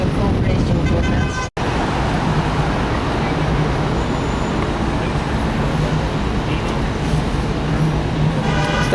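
A tour bus in New York rolls to a stop with a loud, continuous engine and road rumble heard from inside. The noise cuts out for a moment, then carries on steadily.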